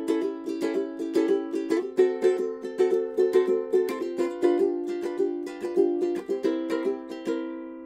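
A ukulele plays a Hawaiian riff at a fast tempo, bright plucked notes in a quick, even rhythm, close and clear with no talking.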